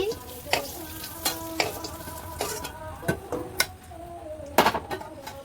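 Pointed gourd slices fry in oil in a wok with a steady close sizzle, broken by a dozen sharp clinks and scrapes of a utensil stirring and lifting the pieces.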